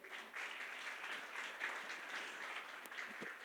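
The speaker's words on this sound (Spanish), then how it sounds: "denle un aplauso al Harold, por favor." Applause from a church congregation during a Spanish-language sermon, a steady mid-level patter of many hands clapping, fairly distant and alone, with a brief tap near the end.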